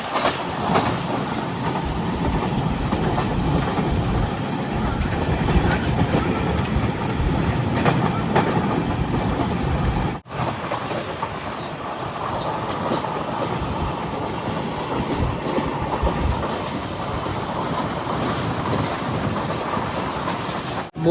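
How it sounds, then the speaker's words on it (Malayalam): Matsyagandha Express rolling into Kundapura station, a steady moderate rumble and rattle of the coaches throughout, with a brief break midway and no talk. "ട്രെയിൻ ഇത് കുന്താപുര സ്റ്റേഷനിലേക്ക് എത്തുകയാണ്"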